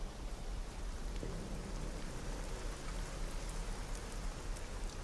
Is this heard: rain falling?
yes